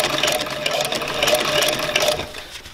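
A New Tech industrial sewing machine stitches through thick material in a fast, continuous mechanical run with rhythmic needle beats, close and loud, easing off near the end.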